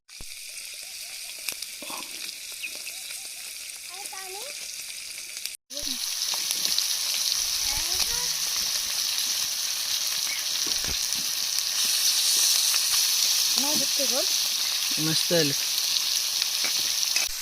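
Mixed river fish fry in oil on a griddle with a loud, continuous close sizzle, broken by a brief cut, while a person speaks briefly in between.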